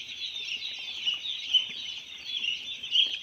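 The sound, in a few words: chickens clucking at a poultry farm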